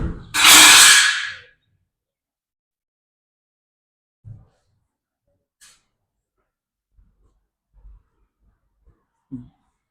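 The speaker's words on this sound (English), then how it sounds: "auto boot opener, boot open and close" A powered automatic tailgate on a 2023 Toyota Innova Hycross ZX(O) hybrid gives one loud motorized whir at the start, then a few faint clicks and thuds follow as it latches.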